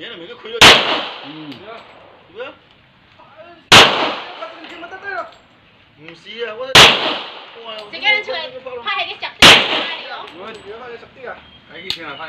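Four sharp gunshots ring out at a practice shooting range, spaced a few seconds apart and loud and close, with an instructor's voice talking between the shots.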